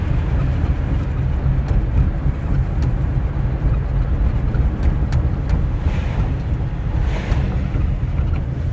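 A 1957 Pontiac Star Chief Safari two-door wagon cruising down the road, heard as a steady broadband roar of road and wind noise with a low rumble underneath, continuous and fairly loud throughout.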